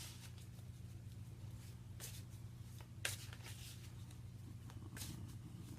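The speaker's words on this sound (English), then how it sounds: "Cards just want a bit more shuffling." Tarot cards being shuffled by hand during a reading, soft riffling and slapping bursts spaced irregularly over a steady low hum, fairly quiet and close, with no talking.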